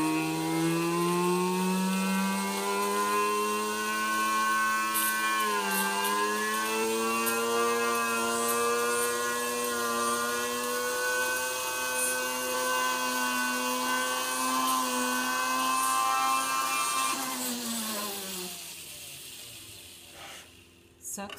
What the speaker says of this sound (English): that's the thing, you guys, with drilling stones. Drilling stones does take some patience